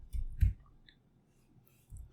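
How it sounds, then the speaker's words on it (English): Logitech K380 wireless Bluetooth keyboard being typed on, a few soft, close key clicks spaced irregularly with quiet gaps between them, no talk. "You can hear the keyboard sound also."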